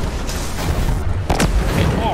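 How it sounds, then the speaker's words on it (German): Video game explosion in a tactical shooter, a loud boom with rumbling blast noise and debris, heard close up amid sustained low background roar. "Die Explosion hat mich ein bisschen mitgenommen."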